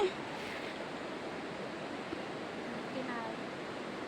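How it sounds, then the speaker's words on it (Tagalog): River water flowing at a hiking spot where friends stop to swim, a steady, even rush of water that holds without a break throughout. "Ayan o, may ilog na ha."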